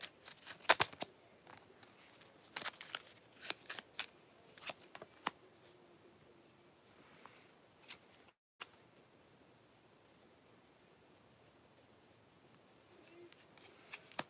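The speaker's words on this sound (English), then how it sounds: "Let me shuffle these again" Tarot cards shuffled by hand in a series of crisp riffling bursts and soft slaps, close and fairly quiet, with pauses between handfuls and a brief gap partway through.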